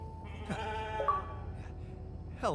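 A sheep in the survival video game The Alters gives a couple of wavering, nasal bleats, clear and fairly close, with a brief quiet gap between calls and no voices.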